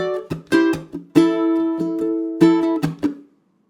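Ukulele playing a short hard rock riff. Bright plucked notes and strummed chords come in choppy syncopated bursts, close and alone, with a few sustained chords ringing out before a final stop.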